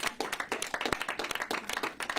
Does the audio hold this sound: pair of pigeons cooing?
no